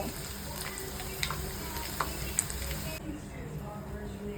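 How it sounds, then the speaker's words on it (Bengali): Chilli paneer fries in a pan with a continuous close sizzle punctuated by a few light clicks of a stirring utensil, the hiss dropping away abruptly near the end. "খুব ভালো করে ফ্রাই হয়ে গেছে, এবার আমি তুলে নেব"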